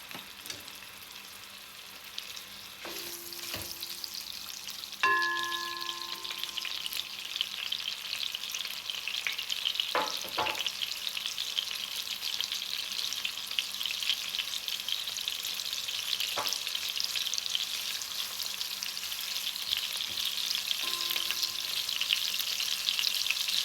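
Guanciale frying in olive oil in a pot, a continuous close sizzle and crackle that grows slightly louder over time, broken by a few light knocks and clinks of utensils, with no one talking.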